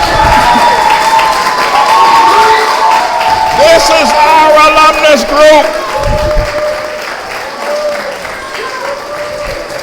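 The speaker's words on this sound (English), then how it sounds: "All ATLAH graduates, give them a round of applause." Audience applause rings out for graduates at the twenty-fourth annual graduation of the ATLAH School System in Harlem, steady clapping and crowd noise filling the room while someone speaks over it through a loudspeaker.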